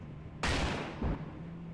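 An ATGM missile launches from a BMP at a warehouse in Project Reality, a loud sudden whooshing roar that cuts off, then a shorter second blast follows, over a low steady engine hum.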